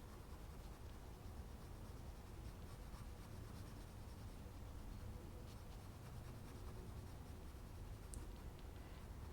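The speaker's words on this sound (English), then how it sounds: "when it comes to coloring with colored pencils" Continuous soft scratching of a colored pencil coloring ivy leaves on paper, close and quiet, with steady back-and-forth strokes and no talking.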